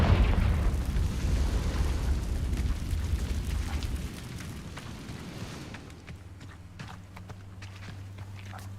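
Confringo blasting spell in the video game Hogwarts Legacy: a loud, deep booming burst fills the first four seconds, then subsides into a lower rumble with scattered crackles and thumps.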